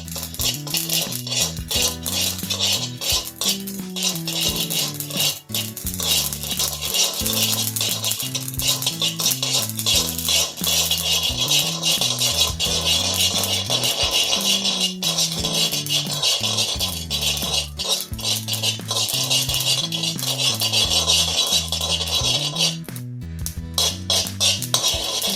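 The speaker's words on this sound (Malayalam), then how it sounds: "കടുകെല്ലാം നല്ല പൊട്ടുമ്പോൾ നല്ല മണം വരുന്നുണ്ട്." Mustard seeds popping in a hot pan for mango pickle, a continuous busy crackle and patter of small pops with scraping and clinking of a spoon against the pan, steady and close.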